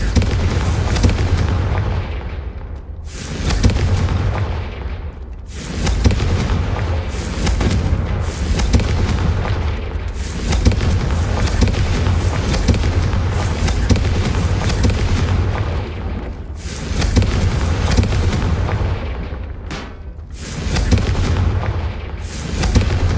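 Repeated Confringo fire-blast spells in Hogwarts Legacy, loud booming explosions with a heavy low rumble, several big bursts separated by brief dips, continuing throughout.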